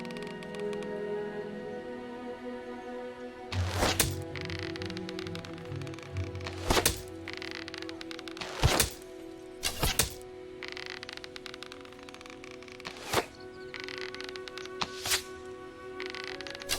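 Arrows fired from a bow strike targets in the video game Fable, several sharp thuds and cracks spaced a couple of seconds apart over a quiet, steady ambient backdrop, with no talk.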